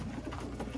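A pigeon coos softly in a coop, a brief low murmur over faint background noise, with no talking.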